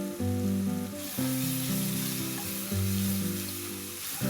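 Dendeng balado seasoning sizzles loudly in a hot pan, a steady crackling fry broken by a few stirring scrapes, close and continuous with no voices.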